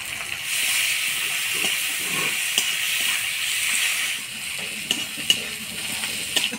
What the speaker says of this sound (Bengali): মাছটা দিয়ে ভালো করে নাড়াচাড়া করে নিলাম